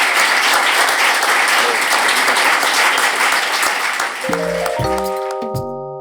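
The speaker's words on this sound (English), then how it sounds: "Can I please get a round of applause for the 3 panellists tonight" A dense, loud wave of audience applause fills a Melbourne talks-venue hall after a panel discussion on youth detention, then fades as bright sustained musical tones and a chime rise over it near the end.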